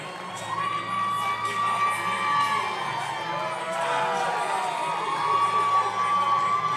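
Arena crowd at an Island Fights MMA event cheering and shouting steadily as a fighter walks out to the ring, a dense, loud roar of many voices with whoops rising throughout.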